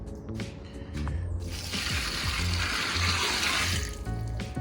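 Water poured from a gallon jug into buckets of colonized grain for mushroom growing, a loud, steady gushing splash that builds and then tapers off, close up with no voices.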